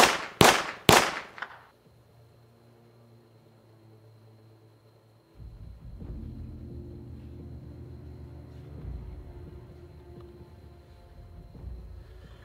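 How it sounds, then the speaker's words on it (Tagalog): Three sharp, loud gunshot-like bangs in quick succession open the clip, followed by near silence and then a low, steady rumbling hum. "Nakarinig ako ng putok ng baril."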